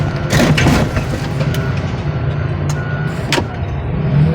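A car crusher flattens a car: steady, loud low machinery rumble with metallic creaks, crunches and a few sharp clanks of bending body panels throughout, close by and with no talking.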